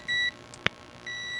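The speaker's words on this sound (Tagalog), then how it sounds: "Buzzer check." Two steady electronic beeps from a continuity tester buzzer checking a fuse during refrigerator repair, one short and one longer, separated by a brief click, clear and close.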